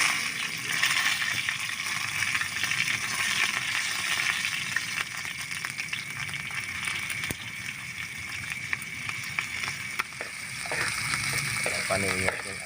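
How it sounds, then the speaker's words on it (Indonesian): Eel frying in a little oil, a continuous dense sizzle and crackle that holds steady throughout, with faint clicks and scrapes from cooking utensils. "belutnya kita langsung kita goreng"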